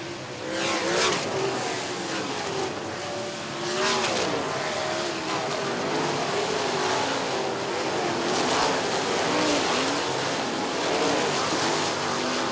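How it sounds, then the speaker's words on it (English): ASCS sprint cars race side by side on the Salina Speedway dirt oval, and their loud engines rise and fall as they sweep through the turns. The roar is continuous with overlapping cars and repeated surges, with no talk. "Here comes Seth Bergman down to the inside, side by side for the race lead"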